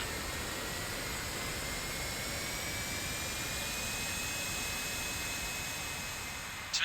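Steady broadband jet engine roar from a Boeing 777-300ER spooling up during start-up in a flight simulator game, a continuous even rush with a faint high whine, ending in a brief burst of noise.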